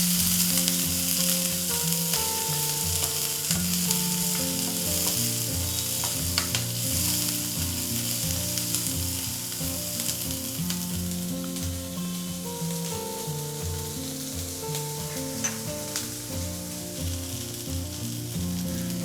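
Finely chopped onion frying in a pan for a vegetarian soup, a steady bright sizzle with occasional stirring scrapes, close and continuous with no talk.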